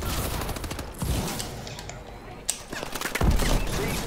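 Sentry gun fire in Call of Duty: Advanced Warfare, a steady stream of rapid shots throughout with a couple of heavier bursts near the end, loud and close.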